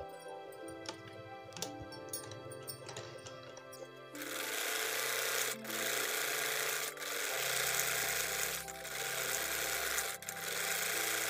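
A sewing machine runs steadily, stitching the folded hem of a ladies' suit, after a few seconds of quieter handling; its loud whirring motor continues with brief pauses between bursts.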